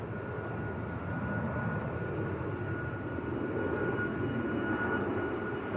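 A jet aircraft roars steadily overhead while climbing away after an aborted landing at Manchester airport, its broad engine rumble continuous and moderately loud, with no talking.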